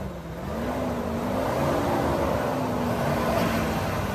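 A GMC Denali truck engine idles and then revs gently, its hum rising and holding in a smooth, fairly quiet swell at an auction lot, close by.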